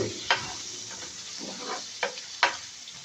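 Onion frying in a little oil, a soft steady sizzle broken by a few sharp scrapes and knocks of a spatula stirring the pan, close and fairly quiet.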